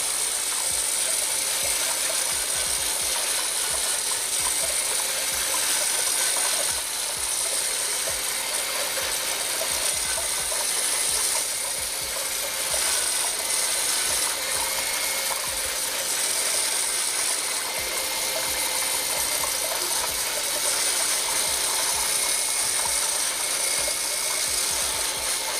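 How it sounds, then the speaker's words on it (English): Stiff brush bristles work zinc-containing ceramic glaze through a sieve in a bucket, making a steady, continuous scratchy scraping that keeps going with a faintly ratcheting grain throughout. "the bristles are just pushing all that glaze through the sieve there"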